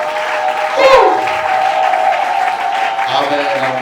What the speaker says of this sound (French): Est-ce qu'on peut acclamer très fort pour Dieu?